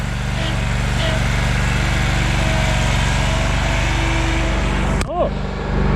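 A lawn mower engine runs steadily and close by, a constant droning hum with strong low harmonics that holds for about five seconds before cutting out abruptly, followed by a brief rising whine and quieter background.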